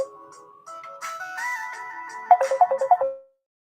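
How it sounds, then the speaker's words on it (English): A phone ringtone plays alone: a rising electronic melody that builds over a few seconds, then a quick run of repeated bright beeping notes before it cuts off abruptly. "I had to take that phone call."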